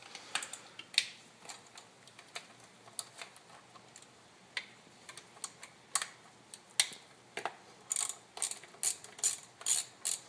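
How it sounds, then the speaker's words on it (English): A ratchet unscrews the four bolts holding the carburetor on a 1996 Evinrude 150 outboard, making quick close ratcheting clicks in irregular bursts that turn into loud rapid runs near the end, with no voices. "first we're going to unscrew these 4 bolts that hold the carburetor in place"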